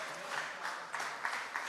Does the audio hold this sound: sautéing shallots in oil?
no